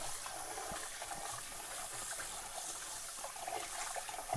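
Rice being rinsed in water, with a steady trickling, sloshing wash of liquid that stays fairly quiet and even throughout, and no voices.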